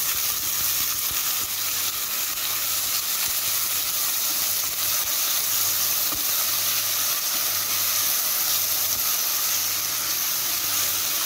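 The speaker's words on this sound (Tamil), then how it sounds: "அதையும் நல்லா எண்ணெயில் வணக்கிடுங்க." Ginger garlic paste sautéing in hot oil for a mutton and vegetable kurma, giving a steady, close sizzling hiss with faint stirring, unbroken and without talk.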